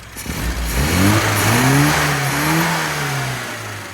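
A carbureted car engine with freshly fitted, properly gapped spark plugs revs up cleanly and settles back toward idle, loud and close, with no talking.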